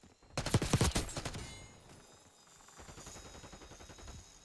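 Dense bursts of automatic gunfire erupt in a video game match on the Skyline map, loud volleys for about a second, then quieter rapid shots rattling on in the background.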